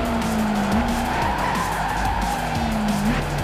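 Tires screech in sustained, wavering squeals as a car slides sideways through a drift in Gran Turismo 5, racing engines roaring loudly underneath throughout.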